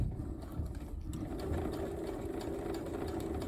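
A sewing machine stitches gusset seams with a continuous low mechanical hum and faint rapid ticking, quiet and steady throughout with no voices.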